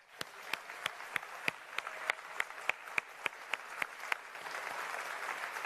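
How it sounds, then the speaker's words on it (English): Audience applause at a Frontier Developments game expo, with a loud nearby clapper beating a steady rhythm over a thinner crowd of hands that swells toward the end. "please give yourselves a huge round of applause"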